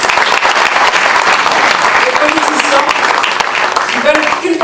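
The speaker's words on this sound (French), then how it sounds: "J'aimerais qu'on les applaudisse." Loud, dense applause from a hall audience clapping for entrepreneurs at a Paris municipal election campaign event, steady and close throughout, with faint voices just audible beneath.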